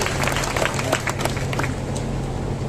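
Audience at a statue unveiling ceremony applauding together, a dense steady wash of clapping that stays loud throughout with faint crowd murmur underneath.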